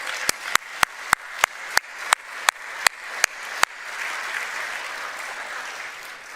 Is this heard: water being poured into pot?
no